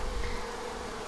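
Honey bees humming steadily around a swarm at a hive, a dense, continuous insect drone close by with no voices over it.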